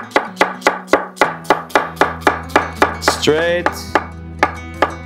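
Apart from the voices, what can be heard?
knife cutting an onion side to side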